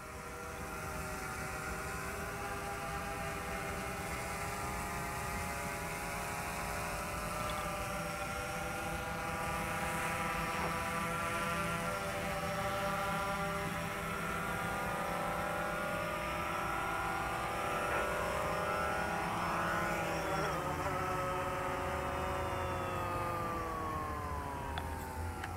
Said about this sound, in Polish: Widzicie, nic nie robię, a dron ląduje.